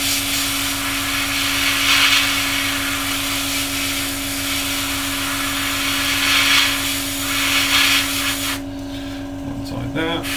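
An airbrush sprays orange paint onto the tail of a Dragon 1/32 P-51D model, a steady hiss over a constant motor hum that stops abruptly near the end.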